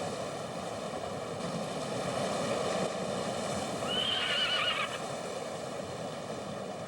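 A horse whinnies clearly over a soft background of hoof clip-clops and ambient noise, with the neigh rising and trailing off near the middle.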